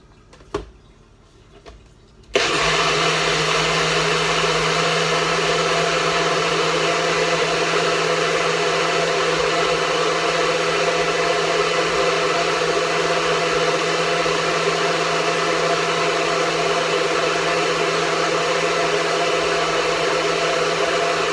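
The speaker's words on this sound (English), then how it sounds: "we grind this all up." Countertop blender grinding vegan potato casserole ingredients with cornstarch, a loud steady motor whine running continuously for about twenty seconds after a couple of brief knocks and a short quiet start.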